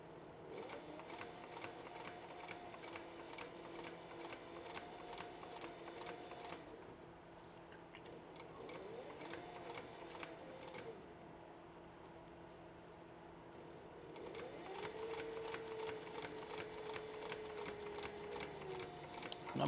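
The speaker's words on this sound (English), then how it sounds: "I'm going to sew up here until I can get as high as I can on it, and then I'm going to do my back stitching." A sewing machine stitches up the seam of a fringe purse in steady, rapid runs, pausing briefly mid-way before resuming, close and fairly loud with no talking.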